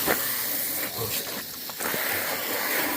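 Continuous loud hissing spray of cleaner onto a motorbike, with a few brief surges and dips, close by and steady throughout.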